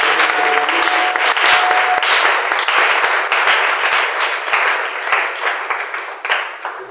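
A church congregation claps together in loud, dense, steady applause that thins out toward the end.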